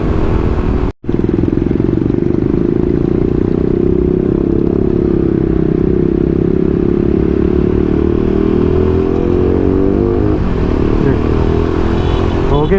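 Motorcycle with a cut, enlarged-hole exhaust riding steadily, a loud continuous raspy drone close by for the whole stretch, with a brief dropout near the start and some clatter.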